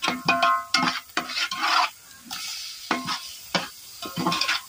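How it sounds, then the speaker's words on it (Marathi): Dried Bombay duck, onion and potato stirred into spiced oil for a village-style dry fish curry, close bursts of scraping and sizzling that come in uneven strokes with short pauses between them. "आता त्याच तेलामध्ये मसाले परतून घेतल्यावर बोंबील, कांदा, बटाटा जे आपण धुवून घेते चांगले स्वच्छ ते टाकून घ्यायचे."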